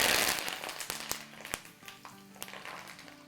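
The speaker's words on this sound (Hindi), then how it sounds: "हरी मिर्चों का और कड़ी पत्तों का तड़का मारेंगे" Curry leaves and green chillies hit hot oil on a stove at medium heat, giving a busy crackling sizzle with sharp pops spread throughout, steady and close.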